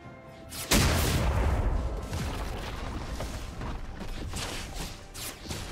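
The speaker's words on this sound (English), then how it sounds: "Team's turret has been destroyed." A turret collapses in League of Legends with a sudden loud crash, followed by a dense, sustained rumble of explosive debris and game effects. The din stays heavy for several seconds with no voices.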